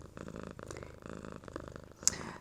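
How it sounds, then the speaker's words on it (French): A domestic cat purrs steadily and close by, a soft continuous rumble with a brief sharp click near the end. "Vous allez entendre le ronronner."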